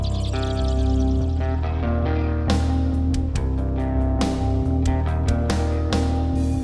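A heavy shoegaze/nu metal beat built in FL Studio, sustained distorted guitars ringing out before a cut drum pattern kicks in with sharp, evenly spaced hits for the rest of the passage.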